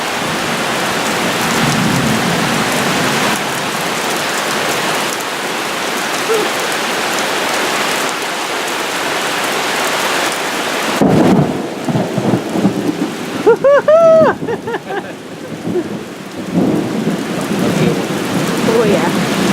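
A summer thunderstorm with heavy rain hisses loudly and steadily around a duck pen, then a sharp, close thunder crash breaks through, followed by a few brief duck calls over the downpour.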